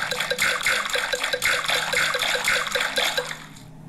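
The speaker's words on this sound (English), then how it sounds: "Peppa and George love splashing in the pool" Rhythmic splashing water from a Peppa Pig swimming race video game, repeated pulses of splashes at a steady pace, fairly close and alone without talk.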